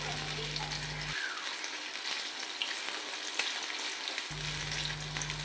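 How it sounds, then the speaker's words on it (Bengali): Potatoes frying in oil in a pan, a steady close sizzle and crackle that continues without a break at a moderate level. "আলুগুলো আমি মিনিট তিন চারেক সময় নিয়ে আমি ভালো করে ভেজে নেব"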